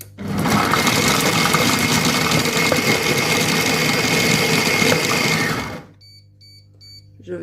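A Compact Cook Pro food processor chopping carrots and chicken: a loud, steady whirring motor run lasting about six seconds that stops abruptly, followed by a few faint electronic beeps in near silence.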